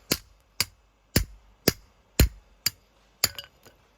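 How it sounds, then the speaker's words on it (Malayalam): Red-hot iron being hammered flat on an anvil at a smithy: seven sharp, ringing metallic blows at a steady, roughly half-second rhythm, close and loud, with no talk. "ഇനി നമ്മളിത് അടിച്ച് പരത്താൻ പോവുകയാണ്"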